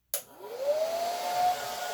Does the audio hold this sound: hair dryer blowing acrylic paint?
yes